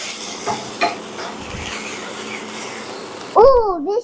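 Okra (lady finger) fries in a pan with no masala, giving a steady, even sizzle with a few stirring knocks, before a voice speaks loudly near the end.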